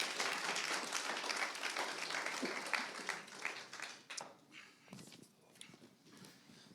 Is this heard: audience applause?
yes